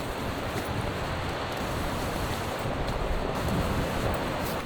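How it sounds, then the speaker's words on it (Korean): Strong wind sweeps a beach campsite at Daebudo, with constant roaring gusts and a surf-like rush buffeting the microphone. No one speaks. "와 진짜 역대급이다 바람."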